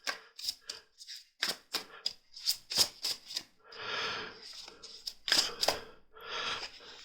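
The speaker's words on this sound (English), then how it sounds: "these are very impressive quality cards because they're shuffling beautifully even when they're brand new" New cards, just out of their original plastic, shuffled repeatedly up close in a quiet room: crisp riffling bursts and flicks, with a few longer continuous riffles between the sharp snaps.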